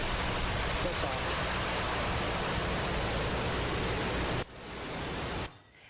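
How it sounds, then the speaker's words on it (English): SpaceX Falcon 9 rocket launching from Cape Canaveral: a broad, steady roar of thundering noise heard from a distance, holding level for several seconds, then dropping sharply in two steps as it cuts away. "that was the sound of a successful launch from SpaceX early this morning"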